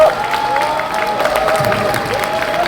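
An audience applauds at a book concert for politician Yang Moon-seok in Ansan's Sangnok-gap district, with steady clapping and some crowd cheering carrying through the whole stretch at a fairly loud, even level.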